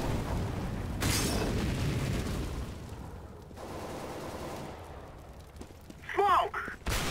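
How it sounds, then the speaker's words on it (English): An incendiary grenade thrown in CS:GO, heard as a continuous roar of burning and gunfire-like crackle that dips midway, then a sharper burst near the end; fairly loud and dense, with no clear voices. "I'm throwing fire."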